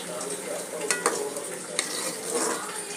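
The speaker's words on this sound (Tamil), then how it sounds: "இப்போ பன்னீர் போட்டுட்டு நல்லா கிளறி விடலாம்." Paneer stirred in a sizzling frying pan, with a spatula scraping and clinking against the pan over steady frying hiss.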